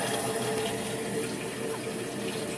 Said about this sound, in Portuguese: Agora que ela põe mais água